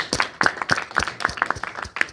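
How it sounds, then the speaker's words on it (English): A small school audience claps in a library to welcome a guest, with a brief burst of sharp, fairly close handclaps and no one speaking. "let's do a small round of applause."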